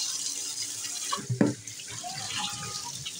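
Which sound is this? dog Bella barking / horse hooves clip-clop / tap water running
tap water running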